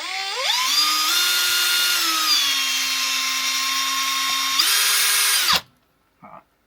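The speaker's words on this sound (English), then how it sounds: "I don't like drilling in the side of the caravan." A power drill whines loud and close as it bores into the side of a caravan, its pitch rising at the start and shifting midway, before cutting off sharply and giving a brief final burst.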